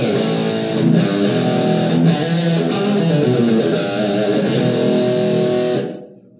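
Taylor T5 acoustic-electric guitar played through its humbucker pickup with drive distortion, a dense sustained crunchy chordal tone strummed with a few accents, loud and steady before cutting off and fading near the end.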